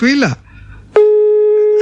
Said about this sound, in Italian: Se lasci squillare ti si sveglia il figliolo, Vinicio.